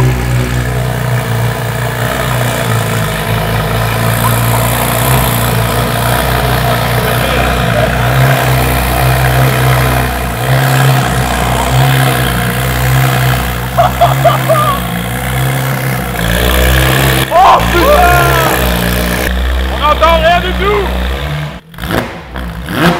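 A Porsche GT3 RS Exclusive Manufaktur fitted with a JCR titanium exhaust, loud and close, with a steady deep engine drone and rising revs; brief voices and a sharp burst near the end.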